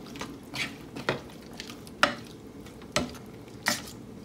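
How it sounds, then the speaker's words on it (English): A spoon stirring a pot of boiling chipotle beans with a bay leaf and a whole chipotle pepper, several distinct scraping knocks against the pot spaced about half a second to a second apart, close and fairly quiet. "I'm going to go ahead and stir this one more time"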